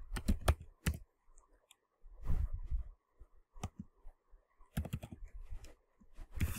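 Computer keyboard typing out an SQL subquery, heard as close, crisp clusters of key clicks in several short bursts separated by brief pauses.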